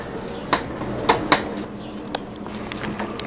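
Potatoes being mashed with butter in a pan, with several sharp metal clacks and scrapes of a utensil against the pan, spaced irregularly and close up with no talking.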